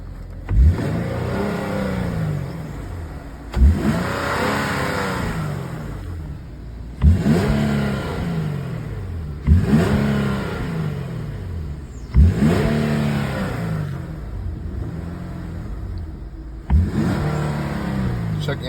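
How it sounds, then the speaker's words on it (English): A 2013 Nissan Skyline 370GT with its stock air intake revs repeatedly, about seven sharp throttle blips that rise and then fall away, each a few seconds apart, loud and close with no talking. "just wanted to give you a little sound preview of how it sounds with the stock intake"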